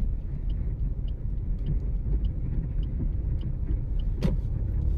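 A car creeps slowly through a tight right-hand turn in a narrow lane during a driving lesson, the steering at full lock; a steady low engine rumble runs throughout with no voices.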